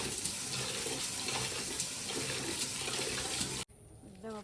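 Water from a tap running over leaves being washed for Mangalorean cabbage patrode, a loud steady rush that cuts off near the end, followed by a brief rustle and a faint vocal sound.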